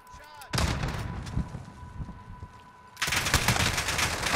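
Rapid bursts of automatic gunfire in a video game, near and loud, rattle almost continuously through a team firefight, ease briefly, then return in an even denser volley.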